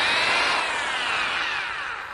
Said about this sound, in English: Mr. Lovejoy is drilling a hole in the kitchen floor. He's using a power drill.